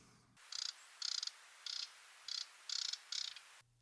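Wrentit rattle call: six short dry buzzy bursts in an even, spaced series, faint and somewhat distant over steady hiss, in shrubby chaparral.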